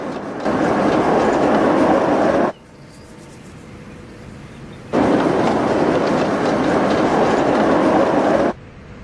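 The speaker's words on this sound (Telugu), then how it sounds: "ట్రైన్ వచ్చేస్తుంది నాన్న" A loud, steady rumble of a train rolls past in two long bursts, separated by a quieter stretch of low background noise.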